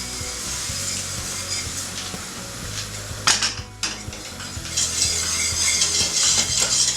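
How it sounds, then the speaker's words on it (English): Milk being whisked hard into a butter and flour roux for bechamel sauce, a steady scraping, rubbing whisk against the pan with a brief louder clatter midway, close and continuous with no talk. "And just whisk it in really vigorously."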